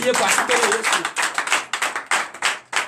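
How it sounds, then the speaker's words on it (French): Congregation clapping for Jesus at a night deliverance and prophecy service, a run of sharp claps close by with a voice talking over them. "Donnez l'acclamation à Jésus."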